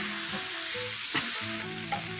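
A spoon stirs ginger, garlic and green chilli paste with fennel and cumin in hot oil, giving a steady frying sizzle with a few soft scraping strokes, close and without talk.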